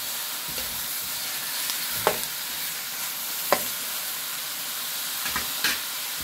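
Frozen garlic pieces fry in melted butter in a pan, giving a steady soft sizzle with occasional sharp crackles and spoon stirring, close and fairly quiet.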